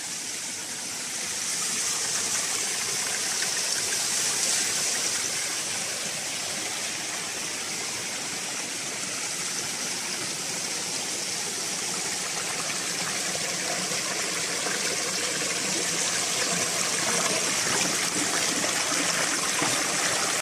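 A mountain stream spills over a small waterfall into a rock pool, making a steady, full rushing and gurgling sound with no pauses. It stays close and even throughout, and no voices are heard.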